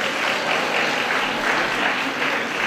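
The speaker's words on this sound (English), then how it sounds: "Let us applaud as he comes." A community audience applauds steadily, dense, even clapping filling the whole stretch at close range without pause.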